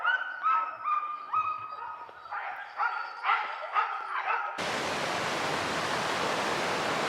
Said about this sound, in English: I hear these guys barking for 2 miles away.